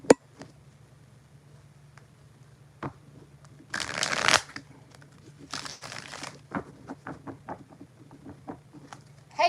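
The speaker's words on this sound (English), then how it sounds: "3 more shuffles for Kimberly Sanchez." Tarot cards being shuffled by hand, scattered flicks and taps broken by two dense riffling bursts, close and crisp against a quiet room hum.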